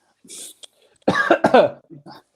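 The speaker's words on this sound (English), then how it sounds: "I'm coughing now after that" A couple of sharp coughs with throat-clearing rasps, close and fairly loud, between short bursts of a person talking.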